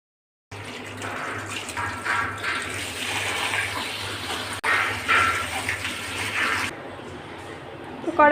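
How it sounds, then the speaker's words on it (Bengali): Water drains off boiled dried loitta fish in a steady splashing gush, close and continuous for several seconds before cutting off, with a voice speaking over it. "তো সিদ্ধ দেওয়া শেষ, এখন পানিটা ঝরিয়ে নেবে।"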